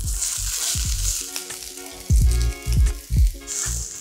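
Chopped garlic sizzles in hot olive oil in a pan, a steady close frying hiss broken by several heavy low knocks and scrapes of stirring.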